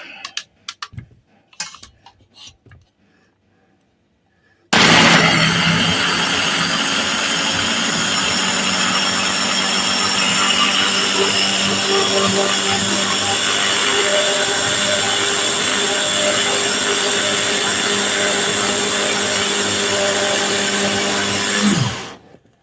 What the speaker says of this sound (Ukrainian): І вмикаю блендер.